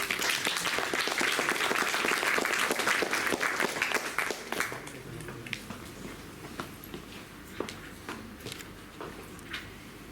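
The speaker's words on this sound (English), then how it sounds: "Let's welcome them with a big round of applause." An audience at an alumni talk applauds loudly to welcome guests onto the dais, dense clapping for about four seconds that then thins to a few scattered claps.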